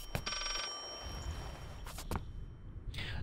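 A rotary telephone rings inside the horror video game Layers of Fear, with a loud bell burst near the start, a few thumps and footsteps, and another ring at the end.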